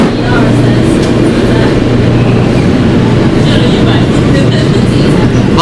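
A Kawasaki R160B Q train rides through the New York subway between Times Square 42nd Street and 96th Street/2nd Avenue, its steady loud rumble and rattle filling the car without a break.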